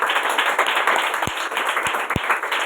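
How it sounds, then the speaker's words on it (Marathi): A church congregation claps together in dense, continuous applause, loud and close, with a few sharper thumps standing out. "टाळी वाजवा."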